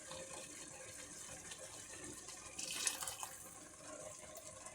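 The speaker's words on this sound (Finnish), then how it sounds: "huuhellaan vähän mulla on tässä litra keitettyä vettä. Niin huuhellaan vähän tätä purkkia." About a litre of boiled water pours into a jar to rinse it, a soft steady trickle that swells into a brief gush midway before settling back to a quiet flow.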